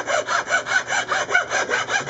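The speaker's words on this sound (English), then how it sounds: "I'm going to file the excess off" A hand file rasps back and forth across hardened excess epoxy on a holly wood Les Paul guitar top, with about ten even strokes in a quick, steady rhythm, close and loud, no talking.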